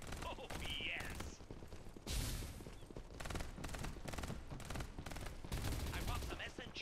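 Gunfire from an online battle-royale shooter, Farlight 84, in a squad match: repeated loud bursts of rapid shots in several volleys, with brief pauses between them and a mix of other game effects.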